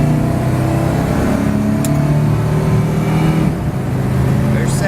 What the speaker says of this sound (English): I'm going to try to shift it manually so you can kind of hear the engine.